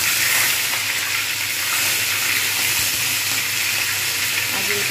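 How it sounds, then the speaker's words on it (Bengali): Katla fish head frying in oil in a kadai, a loud continuous close sizzle and hiss of hot oil with no talking. "আগে এটা ভেজে নেব, যেহেতু কড়ার সাথে তারপর আরেকটা ভেজে নেব।"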